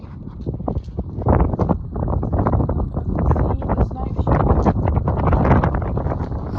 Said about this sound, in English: So sorry about the wind, it's really windy.